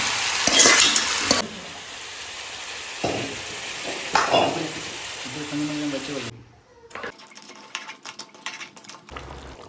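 Black mud crab cooks for a Sri Lankan curry in a home kitchen, the pan sizzling steadily as it is stirred, with people talking over the frying.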